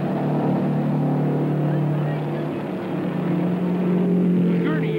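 1963 USAC race cars roar through a turn at the Milwaukee Mile, a sustained engine drone rising in pitch near the end, with a commentator talking over it.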